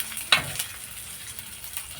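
Garlic fries for a tomato green chilli chutney, a faint, even sizzle with one sharp clink early on and light stirring sounds afterward.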